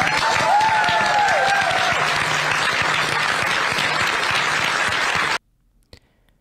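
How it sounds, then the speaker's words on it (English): Sustained applause from a crowd at a governor's budget signing, steady and loud for several seconds, then cutting off abruptly into near silence. "and they'll hear clapping."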